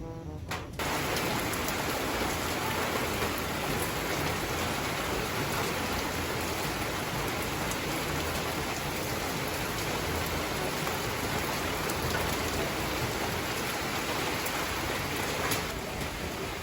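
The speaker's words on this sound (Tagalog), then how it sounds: "Ayan po at maghapong maulan mga kadilag. Hindi pa rin po natila." Steady, heavy rain pours down continuously, a dense hiss of drops drumming on surfaces with no voices.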